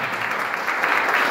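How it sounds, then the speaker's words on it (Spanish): Congregation applauding in a church service, a dense, steady wash of many hands clapping at close range with no break, lasting only a moment. "Dar un aplauso al Señor."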